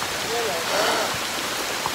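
Heavy rain pouring down during a mountain hike on Piton des Neiges on Réunion island at about 1550 m, a close, dense wash of noise with a voice briefly sounding over it.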